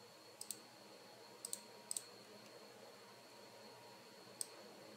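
A computer keyboard is typed on in scattered, faint clicks, a few single strokes and quick pairs spread over a quiet, hissy room, with no voice.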